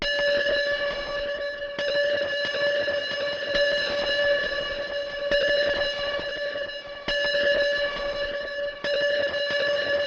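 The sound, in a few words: tonal snare layer with distortion, flanger and extra delay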